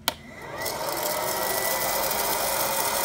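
A loud, steady electric whirring drone of a West Bend Air Crazy hot air popcorn popper starts abruptly after a short click and runs continuously, like a small appliance blower motor.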